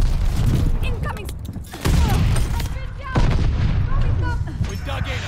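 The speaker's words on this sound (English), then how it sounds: "Incoming grenade." Loud booming blasts from a Call of Duty game, a grenade explosion among them, land in a dense barrage of gunfire with two heavy impacts standing out, while voices talk over the continuous battle noise.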